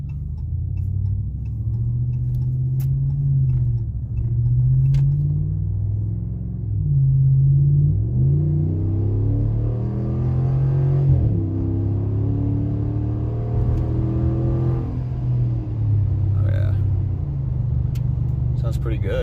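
A 2020 Ram Warlock pickup with a Flowmaster Flow FX catback exhaust rumbles low and steady as it drives, with engine revs rising and falling, heard from inside with occasional ticking.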